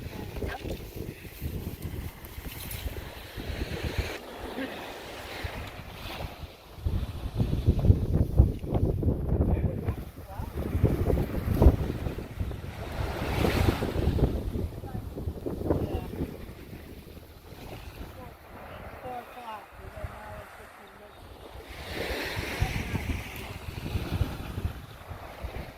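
Wind and breaking waves on Nantucket Sound, a steady broadband rush that swells and eases, with wind buffeting the microphone and faint voices underneath at moments.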